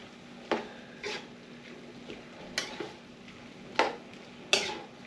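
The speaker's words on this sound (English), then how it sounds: "so we'll just keep stirring this together" A spoon stirs goulash in a pot, making sporadic scraping clinks against the metal over a low steady kitchen hiss, with a few sharper knocks spaced a second or two apart.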